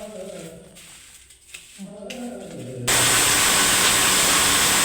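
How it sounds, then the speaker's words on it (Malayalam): A kitchen mixer grinder powders drumstick leaf chutney mixed with salt and a pinch of asafoetida; after a few quiet, muffled seconds, a loud, steady, close whirring roar starts abruptly and holds without a break. "ഇനി ഇത് മിക്സിയിൽ നമുക്കൊന്ന് പൊടിച്ചെടുക്കാം"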